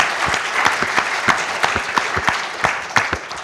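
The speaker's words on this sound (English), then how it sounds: "perhaps we can have a round of applause for all three of them" A lecture audience at UCL claps for three speakers, a close, fairly loud patter of individual hand claps with distinct sharp hits over a steady wash.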